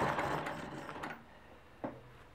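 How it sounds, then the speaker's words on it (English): Home sewing machine stitching around a quilt square, a steady fast whir running for about a second, then quieter with a short mechanical clunk near the end. "We're going to go ahead and stitch around the square."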